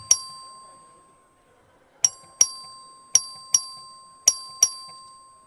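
Voting bell rung by the clerk on the Texas House floor: a single bright ding, then a pause, followed by five more sharp strikes in an uneven series, each ringing out clearly in a quiet chamber.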